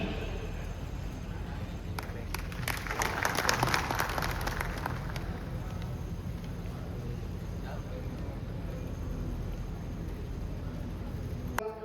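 Applause at a Dhodiya community gathering welcomes guests, a swell of clapping that rises and fades among crowd noise and voices.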